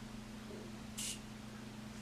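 A makeup setting spray mister gives one short, airy spritz partway through, under a low steady electrical hum.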